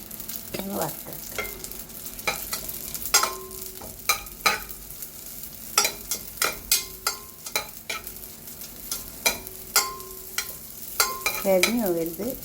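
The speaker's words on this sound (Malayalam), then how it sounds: "സേമിയ ഒന്ന് വറുത്തെടുക്കാം നമുക്ക്." Vermicelli fries in oil in a pan, a continuous close sizzle punctuated by repeated scraping and stirring strokes from a utensil at irregular intervals.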